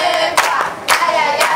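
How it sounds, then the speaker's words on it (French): A children's TV show studio audience claps and cheers for group B in steady close applause, with loud surges near the start and again in the middle. "Les autres, on acclame pour le groupe B."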